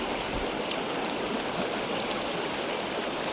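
A salmon and sea trout river flows past in a steady, dense rushing wash, close and even in level throughout, with no voices over it.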